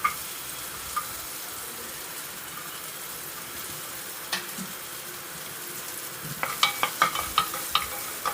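Onions sautéing in a pan, a soft continuous sizzle close by, broken near the end by a quick series of scraping stirs.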